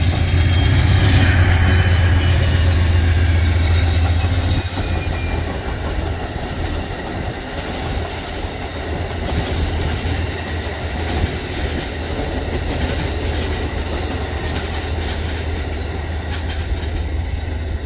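An Amtrak passenger train rolls past at the Gallitzin Tunnels in Pennsylvania on a hot July day, a loud, steady rumble with rail clatter and a heavy low-end roar that eases slightly but persists throughout.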